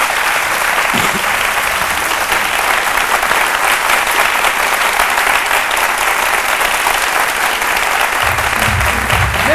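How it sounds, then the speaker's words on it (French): A studio audience on a French-language midday TV show claps loudly and continuously, a thick, sustained burst of applause with a brief low voice underneath near the end. "Je vous demande de l'applaudir très, très, très fort."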